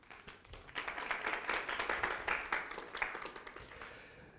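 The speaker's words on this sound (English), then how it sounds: "firstly to give you a round of applause" A faint round of audience clapping at a LinkedIn Local networking session in Lahore, scattered hand claps building into a steady ripple that tapers off.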